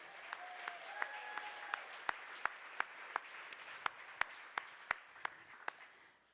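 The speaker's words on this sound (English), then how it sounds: "Give them a round of applause again, everyone." Audience applause at a charity gala, a steady wash of clapping with sharp individual claps standing out near the microphone, sustained throughout before fading slightly at the end.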